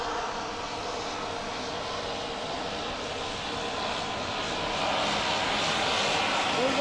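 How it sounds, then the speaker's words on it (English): A fixed-wing airplane taking off at Juneau, Alaska, its engine a broad, steady roar that swells louder toward the end, heard from a distance outdoors with faint voices at times. "here's one of those planes coming out now. Probably going to take off."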